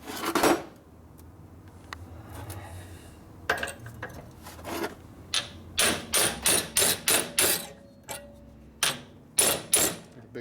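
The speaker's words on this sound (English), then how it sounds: "Get a bigger hammer too." Hammer blows on metal bar stock being bent while building a 1974 Harley-Davidson Shovelhead 74ci FX bobber chopper, a loose series of sharp clanging strikes, several in quick rhythmic bursts, close and loud with no talk.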